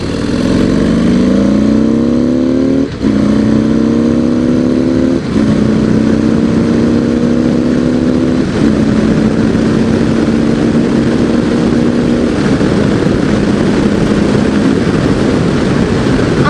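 A 2017 Harley-Davidson CVO Pro Street Breakout on a test ride, accelerating hard under a loud, steady engine roar that drops briefly at each of several gear shifts, with heavy wind noise throughout.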